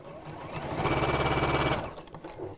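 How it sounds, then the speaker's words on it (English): A sewing machine runs a fast, even burst of stitches through red fabric on red thread, loud and close, lasting a couple of seconds before stopping. "I'm stitching red on red"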